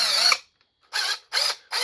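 Hercules 12-volt 1/4 inch impact wrench with a 9/16 socket driving a lag bolt: a short hammering burst, a pause, then three more rapid impact bursts, close and loud, no talking.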